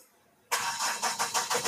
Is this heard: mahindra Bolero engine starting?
yes